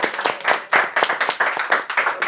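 Classroom applause for a student group, a brief burst of rapid, uneven clapping from several people nearby.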